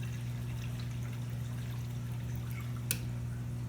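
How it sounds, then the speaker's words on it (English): Water from an auto top-off setup filling an empty aquarium sump, a steady, quiet pouring trickle over a constant low pump hum, with one brief click near the end. "Since our sump is empty right now, it's going to start filling that up."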